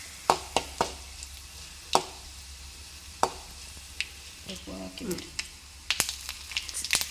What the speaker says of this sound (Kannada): ಸಾಸಿವೆ ಚಟಪಟ ಹೇಳಿದ ಕೂಡಲೇ ಒಂದು 6-7 ಎಸಳು ಕರಿಬೇವಿನ ಸೊಪ್ಪು ಕೂಡ ಹಾಕ್ಕೊಂಡಿದ್ದೇನೆ